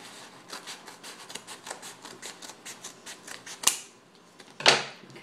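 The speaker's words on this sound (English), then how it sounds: "I'm just going to cut it on this crease." Scissors snipping through a package along its crease, a quick run of crisp close cuts followed by two louder rustling rips of plastic wrapping.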